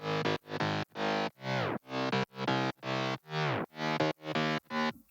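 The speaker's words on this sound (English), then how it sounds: "Bass 1 is from the Stellar package called Bass Blame." Aggressive synth bass, the Bass Blame preset from the Stellar package in FL Studio 20, played as ten loud, evenly spaced distorted notes, some bending downward in pitch, with short gaps between them.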